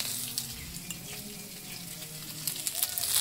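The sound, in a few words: pointed gourd frying in hot oil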